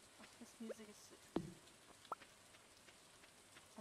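Soft steady rain ambience from the farming game Stardew Valley, a faint continuous patter with a few sparse drips standing out, low and calm throughout.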